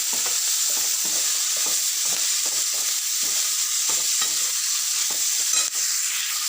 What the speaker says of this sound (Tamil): நல்லா ப்ரௌன் கலரில் வர வரைக்கும் வதக்கணும்.